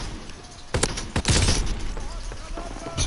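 Bren light machine gun firing in Call of Duty WW2, a couple of sharp shots followed by a denser burst, punchy and close, over faint game background with someone talking.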